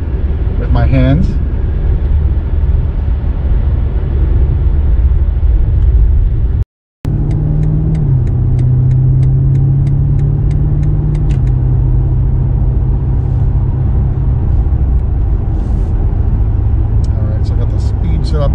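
A car drives steadily with its driving assistance engaged, a constant road and engine rumble running throughout, with a brief dropout midway and a low hum rising after it.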